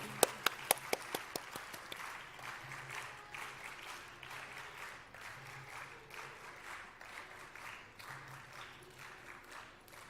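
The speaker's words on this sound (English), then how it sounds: "A big round of applause for Usha ma'am." Audience at a school investiture ceremony applauds a hostel warden, starting with a few sharp separate claps that quickly swell into steady, moderately loud room-filling applause lasting throughout.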